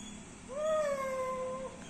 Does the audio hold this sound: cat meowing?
yes